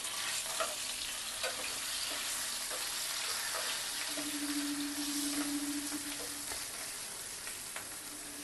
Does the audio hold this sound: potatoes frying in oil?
yes